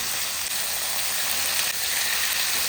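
Bone-in chicken pieces sizzle in a pan with a little oil, garlic and ginger, a steady bright hiss of frying that stays close and constant with no talking.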